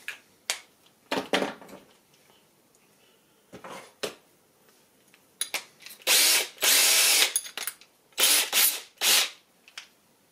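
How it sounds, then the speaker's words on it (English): A power drill runs in short, sharp bursts at a marked point, with scattered clicks and taps of handling before it. Several louder whirring bursts come near the end. "Just mark the crosshair where I need to put the point of the drill."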